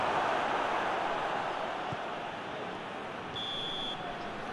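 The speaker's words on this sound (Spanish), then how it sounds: "Aquí está el pitido final." A referee's final whistle at a regional league football match, Almoradí against San Felipe Neri, sounds as one short, steady, high-pitched blast over a constant broadband wash of crowd and broadcast noise.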